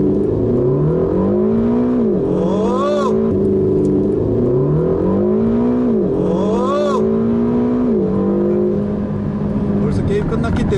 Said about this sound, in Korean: 급가속을 한번 해보도록 하겠습니다